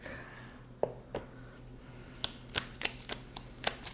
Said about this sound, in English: I'm gonna pull from an oracle deck